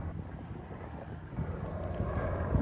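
Wind buffets a microphone outdoors during a live stream, a low, uneven rumble that swells and gusts over a couple of seconds, fairly quiet, with no voices.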